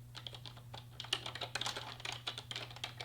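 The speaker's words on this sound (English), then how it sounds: "So I'm going to type in some names right now." Names being typed on a computer keyboard: a quick, uneven run of close key clicks over a low steady hum.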